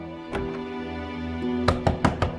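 Knocking on a door in a drama scene: a couple of isolated thuds early, then a quick run of three or four firm, close knocks near the end over a steady low hum.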